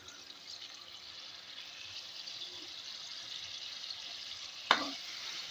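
Beef liver with spices fries in a pan with a soft, steady sizzle that stays quiet throughout, and one sharp clink or scrape near the end, with no voices.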